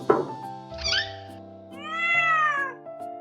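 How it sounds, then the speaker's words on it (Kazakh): A cat meows twice, close and clear: a short first call, then a longer, drawn-out meow after a brief pause. "Мұнда мысық тұрады екен."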